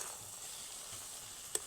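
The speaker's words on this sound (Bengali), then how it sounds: "মশলাটা দেওয়ার পর আমি আবারও বেশ কয়েকবার নেড়ে নেব।" Spiced plum pickle cooking on very low heat in a pan, a faint soft sizzle with one quick clink of a stirring spoon.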